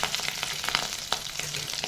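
Lentil fritters (bora) frying in hot oil, with a steady close sizzle and a few sharp spatters popping through, no talking.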